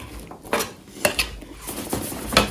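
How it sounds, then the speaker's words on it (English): A spatula scrapes and clinks against a dish while mixing seed-starting ingredients at home, giving a few close, separate scraping strokes and knocks with quiet gaps between them and no talking. "I'm just gonna mix it. This is my spatula from earlier."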